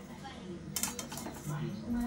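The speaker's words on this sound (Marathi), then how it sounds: "तर ती माझ्यासाठी पोहे प्लेटमध्ये काढत आहे।" Kanda poha being served onto a plate, with several light clinks of a metal spoon against dishes over a quiet background, briefly louder at the start of the serving.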